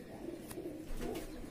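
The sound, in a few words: pigeon cooing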